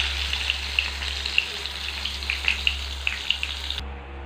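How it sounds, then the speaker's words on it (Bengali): Eggplant pieces, four at a time, frying in oil, giving a steady close sizzle with small crackling pops throughout, with no talk. "আমি চারটে চারটে করে ভেজে নিচ্ছি।"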